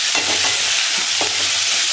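Onions fry over full flame for beef biryani, crackling in a steady sizzle while a spoon stirs them in repeated scraping strokes, close and loud with no talking.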